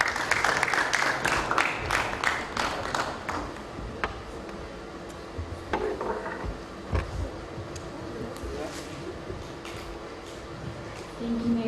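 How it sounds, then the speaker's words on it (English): At a Congo flag raising outside Manchester City Hall, the audience claps. Brisk, fairly close clapping comes first, then thins into scattered single claps and quieter outdoor background. "Let's clap our hand for her."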